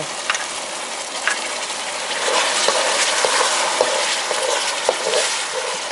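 Isan-style noodles are stir-fried in a pan with soybean paste and a splash of water, producing a steady, close sizzle with scraping stirs and light clinks and no talk.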